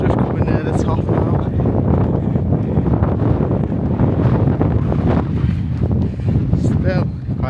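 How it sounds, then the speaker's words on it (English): Strong, steady wind on a snowy mountain top roars and buffets the microphone throughout, a constant rushing noise with gusty swells and no pauses. "It's windy up here today"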